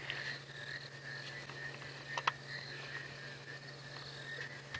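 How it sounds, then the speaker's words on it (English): Frogs croak steadily at night on a wildlife safari drive, a continuous chorus of calls with insects and a low hum underneath, plus a couple of brief sharper chirps. "And the frogs and everything are chirping away"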